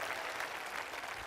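An audience at a talk concert claps together, a dense, steady wash of applause filling the whole moment without a break.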